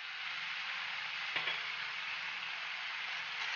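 Veg fried rice being stirred in a hot pan with vinegar and black pepper: a steady, close sizzle that holds throughout, with one brief scrape of the ladle partway through.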